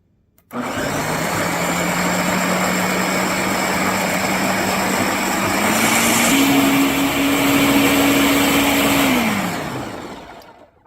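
A blender on its puree setting whirs through red chili sauce, starting abruptly into a loud steady motor drone that climbs in pitch partway through, then winds down and stops.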